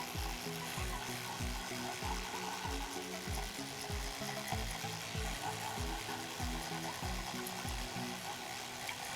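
A vibrating toothbrush dipped in 99% alcohol scrubs a water-damaged Google Pixel 4A circuit board, giving a steady buzzing hiss broken by rhythmic scraping strokes about once a second, close-up and alone.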